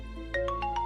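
A mobile phone rings with a short melodic ringtone, a quick run of bright, rising tones repeating close by over a low steady hum, with no one speaking.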